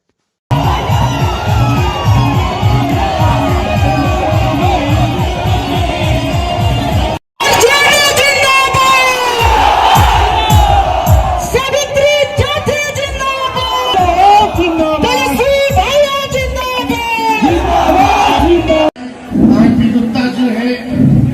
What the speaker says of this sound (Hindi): देखिए इस भीड़ में क्या कुछ नारे आ रहे हैं